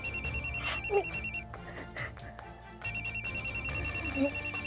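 A mobile phone rings in a domestic drama scene, repeating a bright electronic ringtone pattern loudly, pausing briefly midway, then resuming with the same rapid pulsing melody.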